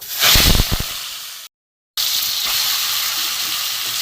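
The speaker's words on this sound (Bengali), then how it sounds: "এখানে আমার লোটে মাছগুলো আমার নুন হলুদ মাখানো, আমি অল্প করে একটু ভেজে নেব।" Lote fish coated in salt and turmeric dropped into hot oil in a kadai, a loud burst of hissing sizzle with a few sharp crackles, a brief cutout, then a steady strong frying hiss close by.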